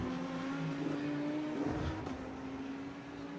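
A DTM race car at Spa-Francorchamps during qualifying holds a steady engine drone as it turns into the La Source right-hander, fairly distant and even, with a brief swell midway.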